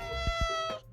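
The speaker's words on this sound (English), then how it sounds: "Oh, that's my cat in the background." Pet cat meows once in a drawn-out, tonal cry, close and clear, fading out at the end.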